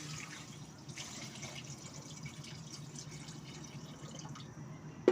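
Water poured into a frying pan holding fried fish for paksiw, a soft continuous trickle and light dripping at close range, ending with a sharp clink, with no talking.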